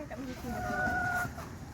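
Gamecocks cluck nearby in a busy farmyard, one drawn-out call rising above a steady murmur of birds and background noise.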